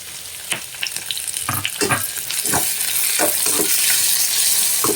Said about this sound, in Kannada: ಟೊಮೊಟೊನು ಕೂಡ ಸಾಫ್ಟ್ ಆಗೋವರೆಗೂ ಫ್ರೈ ಮಾಡ್ಕೊಳ್ಳೋಣ